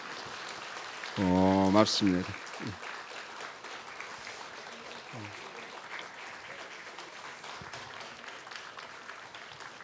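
A church congregation at a missionary sending service applauds: a soft, continuous rain-like patter of many hands, with someone briefly speaking at the start before the clapping carries on alone.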